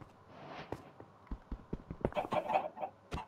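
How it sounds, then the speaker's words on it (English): Chickens in the Minecraft video game cluck in quick, uneven short bursts that grow busier toward the end. The clucks sound moderately close and quiet, with no talking over them. "Ooh, chickens."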